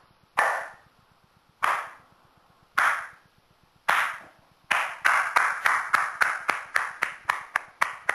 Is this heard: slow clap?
yes